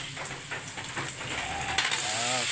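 Tomatoes dropped into a hot pan sizzle with a steady hissing, steamy crackle, with faint clinks of utensils and a brighter burst near the end, no talking.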